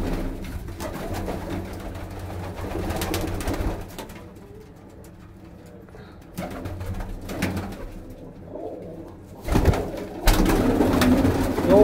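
Punjabi Malwai pigeons coo softly in a loose, irregular pattern against a murky background rumble, with a few louder bursts of noise near the end.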